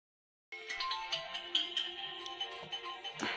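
A mobile phone rings with an electronic ringtone melody, fairly faint and steady, starting abruptly after silence and continuing to the end.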